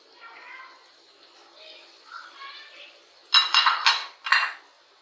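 Chopped potatoes go into a pot of keema and are stirred in, giving a burst of close metallic clatter and scraping from a spoon against the pot, four or five quick knocks after quieter faint shuffling.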